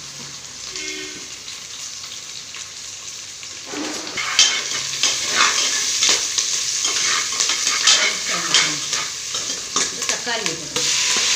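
Curry leaves, green chili and onion fry in a pan with a steady sizzle, and a spoon stirs them with scraping, clattering strokes that grow louder and busier partway through. A voice speaks briefly.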